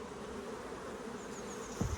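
Honeybees hum in a steady, dense drone around a clean hive frame lifted out in sunshine during a nuc inspection, with a brief louder bump near the end.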